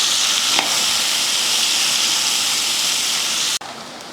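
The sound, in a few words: sliced onion sautéing in oil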